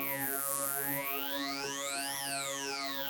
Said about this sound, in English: I added a very glitchy sounding preset from the Starbury Raw Electra X Bank